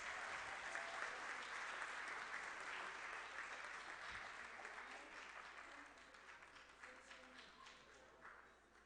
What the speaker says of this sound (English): lyssa Kim, Holden Kowalski, Isabella Mazilu, another round of applause.